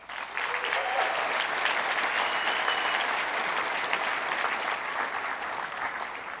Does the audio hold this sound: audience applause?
yes